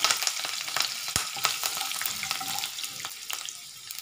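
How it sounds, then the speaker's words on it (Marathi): Cumin seeds and curry leaves sizzling in hot oil in a pan for Maharashtrian bharli vangi, a close, steady hiss with scattered sharp pops and stirring scrapes, alone without talking. "तेल गरम झालेलं आहे. आता आपण जिरं घेतलेलं आहे ते घालूयात."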